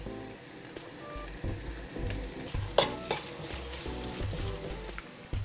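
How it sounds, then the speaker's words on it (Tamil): Cashews and chopped coconut pieces roasting in a tablespoon of ghee, a steady crackling sizzle with light stirring and scraping in the pan, close and fairly quiet, no voices. "ஒரு மேசக்கரண்டி நெய் எடுத்து இதில் வந்து காஜு அண்ட் தேங்காயை வறுத்தெடுக்க போகிறேன்."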